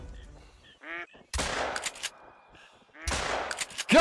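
Ducks quacking in the hunting game Call of the Wild, a few short nasal calls, then two loud gunshot blasts with echoing tails and more quacks in between.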